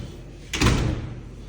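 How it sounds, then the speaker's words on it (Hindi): A house door is pushed shut with a single muffled thud and brief rattle, near and fairly loud, then quiet room tone. "दरवाज़ा लॉक करेंगे अपना घर का"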